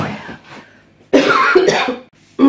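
A person with a cold clears mucus from the throat. A brief rasp comes first, then a loud, harsh, extended clearing, and another forceful clear starts at the end.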